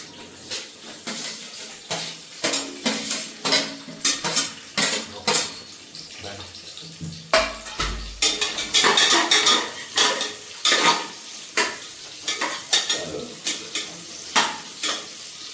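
Cumin, cloves and mustard seeds frying in a pot for mushroom biryani, loud crackling sizzle broken by repeated metal spoon clanks and scraping against the pot, close up, with a low thump partway through.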